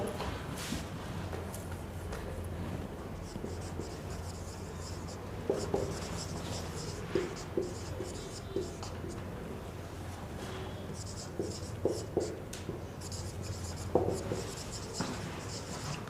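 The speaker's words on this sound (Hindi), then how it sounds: "मैं सेंटेंसेस लिखते जा रही हूं" A marker or chalk squeaks and scratches across a board as sentences are written during a grammar lesson, faint intermittent strokes with small taps, alone without talk.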